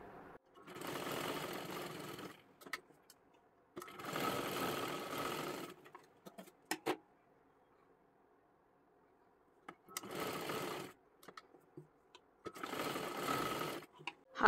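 A sewing machine stitches a tuck on a blouse in four separate bursts of steady, fast whirring, each lasting a couple of seconds, separated by near-silent pauses with faint clicks of handling.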